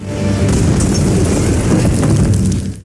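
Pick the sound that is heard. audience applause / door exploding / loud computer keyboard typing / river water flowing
door exploding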